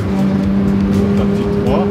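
A car accelerates hard while drifting, its engine droning in a sustained steady tone with tire noise rising near the end, loud and close.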